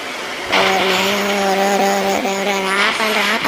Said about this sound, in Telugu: భూచక్రం తిరిగిపోతుంది ఆటో